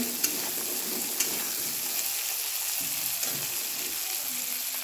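Fried potatoes sizzle in a pan with ground cumin, a continuous close frying hiss broken by occasional light clinks and scrapes of stirring, with no voices.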